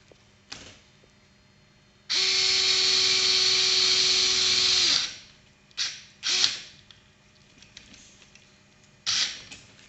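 Power drill driving fixation pins through a femoral jig into a dry bone knee model, one steady whirring burst of about three seconds, close and loud, with brief mechanical clicks and knocks before and after.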